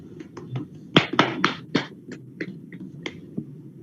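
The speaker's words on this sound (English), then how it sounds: "Give her a round of applause, everybody." Scattered hand claps from a small group at a junior-wing storytelling finale, greeting a first-prize winner: a dozen or so uneven, fairly close claps that swell for a moment and then thin out, with no one talking.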